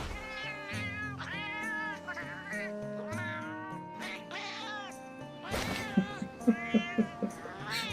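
Repeated cartoonish cat meows from the Metal Gear Solid: Peace Walker video game, a steady run of mewing calls over game music, followed by several sharp, louder cries near the end.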